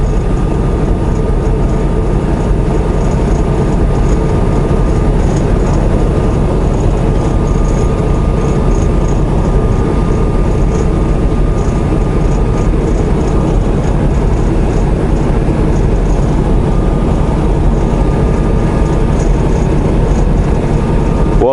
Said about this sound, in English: I see a very, very long train over there